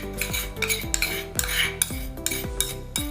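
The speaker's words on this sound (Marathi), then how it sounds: "सगळे मसाले झाले तर आपण आता चांगलं मिक्स करून घेऊ" Spices and roasted gram flour being mixed for paneer tikka, with a steady series of close, bright clinks and scrapes of a spoon against a bowl and no talking.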